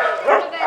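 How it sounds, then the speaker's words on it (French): A single close, loud dog bark at an animal shelter, a short sharp woof with a brief follow-up yelp. "Le mardi à la SPA, c'est le jour de sortie pour les chiens."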